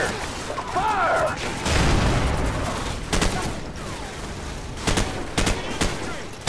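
Rapid bursts of gunfire and explosions from the video game Call of Duty 4: Modern Warfare, repeated sharp shots and booms throughout with a player talking over the combat.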